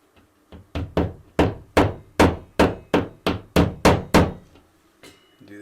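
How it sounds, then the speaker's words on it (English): A small hammer taps plastic wall anchors into a bathroom wall, about a dozen crisp, evenly spaced knocks close to the mic, followed by two softer taps and quiet. "I happen to have a small hammer."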